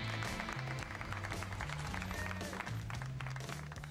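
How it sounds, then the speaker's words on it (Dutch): Crowd applause for racing driver Adriaan Vallers at a Superleague Formula event, a steady wash of clapping over low, pulsing background music with no pause. "Applaus voor Adriaan Vallers"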